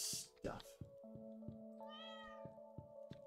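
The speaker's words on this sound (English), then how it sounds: "Yeah, cat." A cat in the Stardew Valley farming game meows once, clear and close, over a looping game soundtrack of steady tones and soft beats.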